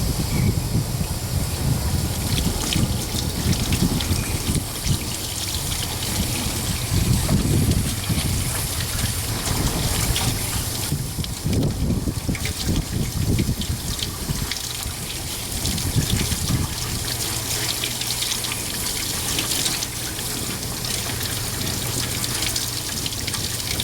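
Tap water runs steadily into a sink while a fish is rinsed before baking, a continuous splashing hiss with brief changes as the flow hits the fish, near and unbroken for the whole stretch.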